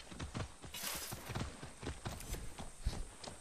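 Faint, rhythmic hoof clops of a horse walking in the video game Far Cry 6, soft taps repeating steadily at low volume.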